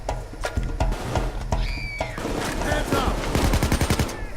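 Gunfire in the video game Payday 2: rapid bursts of shots in quick rhythmic strings, loud and close, with other game effects mixed in and no speech.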